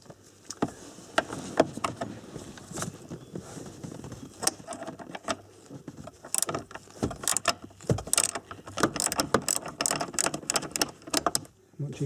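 A ratchet works on a size 13 bolt holding the armrest of an Audi A4, close metallic clicks and clatter in irregular bursts, busier toward the end, with some handling noise and possible faint talk.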